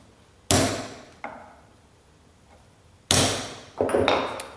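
Hammer blows drive a punch into a marked metal workpiece: four sharp, ringing metallic strikes, two close together, then a pause before two more, each decaying quickly in a quiet workshop.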